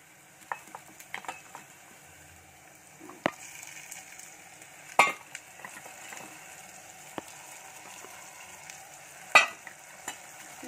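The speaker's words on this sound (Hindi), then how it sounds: "प्याज थोड़ी फ्राई हो गई अभी प्रॉन्स डालेंगे" Prawns frying with onions and green chillies in a pan, a faint low sizzle with scattered sharp clicks and a few louder stirring scrapes, close by and without talk.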